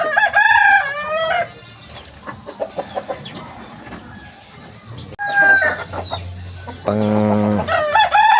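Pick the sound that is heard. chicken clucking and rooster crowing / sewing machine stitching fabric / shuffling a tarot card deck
chicken clucking and rooster crowing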